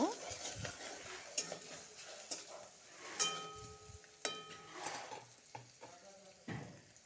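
A spatula stirs stem amaranth greens with salt and turmeric in a pan, producing quiet, intermittent scrapes and clinks against the metal over a soft sizzle.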